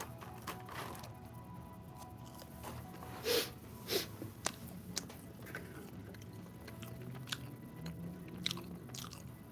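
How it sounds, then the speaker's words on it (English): Someone biting into cold fries, a few crisp bites followed by soft close chewing at low level, with faint background noise. "Maybe I should take a bite out of the fries."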